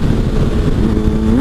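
A motorcycle with a swapped-in GSXR engine revving loud and close, a steady engine drone that climbs in pitch at the end as it pulls for a second gear wheelie.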